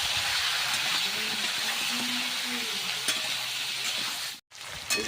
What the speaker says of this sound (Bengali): সবজি ভাজানো হয়ে গেছে